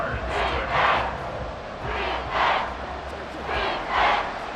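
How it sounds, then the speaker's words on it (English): A stadium crowd at Arrowhead roars during a simulated football video game, rising and falling in three broad surges over a steady background din. "The Arrowhead crowd in full roar"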